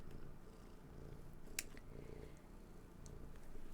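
A kitten purring softly and steadily, faint and close, with a sharp click partway through and no talking.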